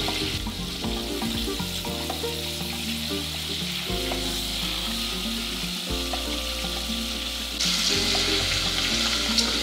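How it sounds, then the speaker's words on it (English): Japanese fried chicken deep frying in hot oil, giving a steady dense crackling sizzle that holds close and loud throughout, swelling slightly near the end, with a low steady hum underneath and no speech. "let it rest for a minute or two, and then deep fry it again"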